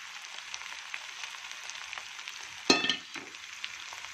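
Roasted peanuts frying in a tempering in a pan for raw mango gojju and chitranna, a soft steady sizzle with a brief louder crackle burst partway through.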